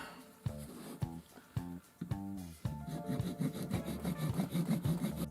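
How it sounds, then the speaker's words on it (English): Rhythmic back-and-forth hacksaw strokes on a hard resin model, steady and close, gradually quickening into a rapid rasping pattern. "Okay, let's get sawing."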